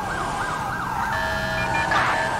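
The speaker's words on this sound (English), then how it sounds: "I can't tell what siren tone I'm fucking in." Police car siren in the LSPDFR game, a wailing tone rising and falling steadily, then shifting to a faster, higher yelp, loud and continuous over low engine rumble.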